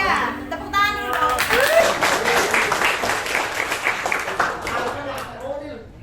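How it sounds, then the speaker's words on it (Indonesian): A school classroom of students claps together for classmates named top-ranked, a lively dense round of applause swelling and then tapering off, with children's voices and chatter mixed in and a teacher speaking at the start and end. "Tepuk tangan dulu."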